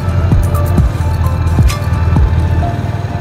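A Yamaha MT 15 motorcycle idles in neutral with its exhaust removed, producing a loud, close, steady low rumble with rapid, regular pulsing.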